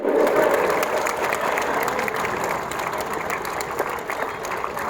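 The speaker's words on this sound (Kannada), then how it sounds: "ಜೋರು ಚಪ್ಪಾಳೆ" Loud, sustained applause from a crowd at a school flag hoisting ceremony, steady clapping filling the air with a faint murmur of voices beneath.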